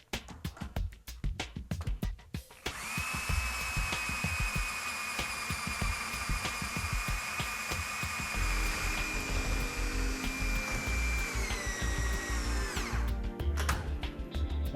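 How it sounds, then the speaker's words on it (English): A power drill bores through a metal three-way bracket used to secure track lengths for a CubeSaver track bulkhead, starting about a third of the way in as one loud, steady whine that holds for roughly ten seconds before winding down, alone without talk. "So I'm going to drill through here."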